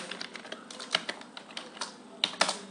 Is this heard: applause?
no